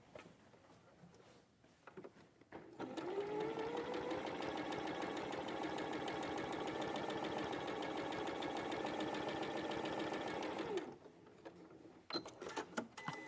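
A sewing machine stitches along a drawn line in one steady run of about eight seconds, its rapid even chatter close and fairly loud, with quieter room sound and faint handling noises before and after.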